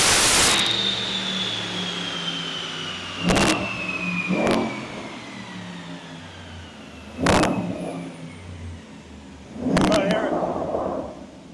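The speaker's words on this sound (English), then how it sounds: "You can hear the exhaust really well." A Jaguar XFR with a Paramount/Viezu induction kit revs on a dyno, its engine and exhaust rising in a long, loud, descending-whine run, cut by sharp bangs and short bursts, with people talking underneath.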